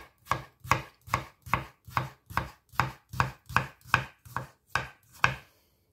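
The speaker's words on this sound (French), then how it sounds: "le concombre que je vais émincer comme ça en triangle" Knife chopping through cucumber on a cutting board, slicing it finely into triangles; about thirteen crisp, evenly spaced cuts at a steady rhythm, close and clear with no talking.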